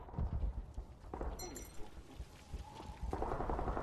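Footsteps in the Call of Duty: Modern Warfare 3 video game during a search-and-destroy match, a quick rhythmic run of thudding steps at moderate distance under background game noise.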